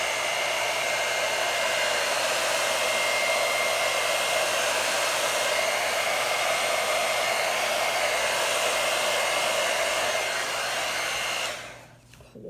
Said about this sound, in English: now we're going to get our handy dandy little blow dryer and see what happens here